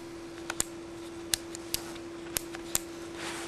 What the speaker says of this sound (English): it makes a very good click.